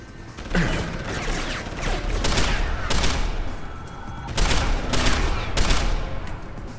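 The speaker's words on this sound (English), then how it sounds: "this asshole's shooting at me" Gunfire in the video game Deus Ex Human Revolution: several rapid, loud bursts of shooting with mechanical clatter, separated by short pauses and ringing over a steady noisy background.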